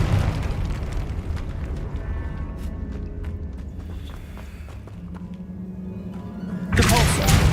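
Confringo blasting spell explosion in the Hogwarts Legacy video game, a rumbling low boom under game ambience and footsteps, ending in a sudden bright blast burst near the close.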